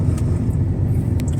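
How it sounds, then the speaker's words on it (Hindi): A used car driving straight along a road, heard from inside as a steady low engine and tyre rumble with no talking. "गाड़ी बिल्कुल स्ट्रेट चल रही है।"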